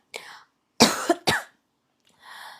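A few sharp coughs from one person, close and loud, with a short breathy sound and a brief pause between them.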